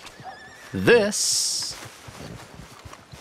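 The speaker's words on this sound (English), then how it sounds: "It's my new horse. It's a white Arabian horse" A white Arabian horse in the Red Dead Redemption 2 video game gives one loud, shrill whinny close by, with someone talking over the quieter moments around it.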